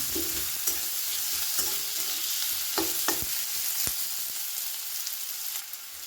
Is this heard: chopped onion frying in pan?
yes